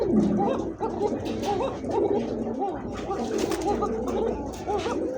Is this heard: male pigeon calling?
yes